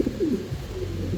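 Fancy pigeons coo nearby in soft, throaty, warbling phrases, one rolling call after another with no voices.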